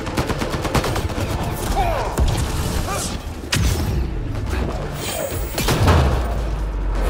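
Turret fire in the video game Mass Effect Andromeda, heard as dense, rapid, loud automatic bursts with heavy thuds and booms running continuously through the whole stretch.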